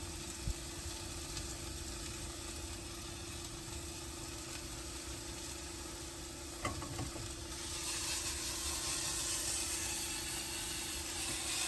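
Onions frying in a pan: a steady, even sizzle under a low background hum, with a short clatter partway through before the sizzle swells a little louder toward the end.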